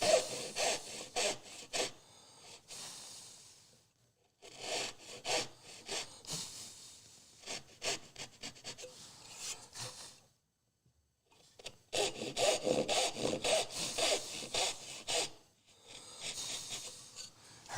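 Hand saw cutting wood for an end lap joint at a woodworking bench, with bursts of steady rhythmic back-and-forth strokes separated by short pauses, close and clear with no talking.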